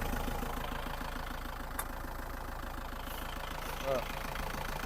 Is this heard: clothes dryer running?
no